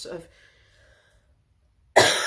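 A single short cough near the start, followed by quiet and then a burst of louder noise at the end.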